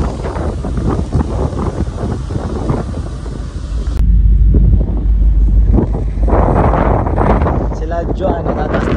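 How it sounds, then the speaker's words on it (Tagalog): Strong wind by the sea on a ship's sun deck near Victoria, British Columbia, buffets the microphone with a loud, continuous low roar and rumbling gusts throughout, while voices talk faintly underneath. "Lakas ng hangin."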